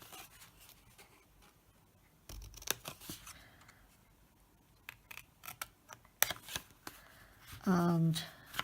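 Scissors snipping through cardstock while cutting out a Creme Egg explosion box, a scattering of short crisp snips and rustles at close range, ending in a brief louder scrape.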